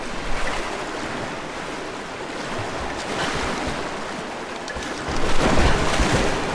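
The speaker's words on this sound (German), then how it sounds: "Ich werde von der Strömung mitgerissen." Rushing water from a strong current in Rise of the Tomb Raider, a steady broadband surf-like roar that swells louder near the end, with no talking.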